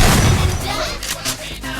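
A loud, booming blast erupts at once and rolls on for nearly two seconds in a broad, rumbling roar, with sharper crackling bursts scattered through its tail.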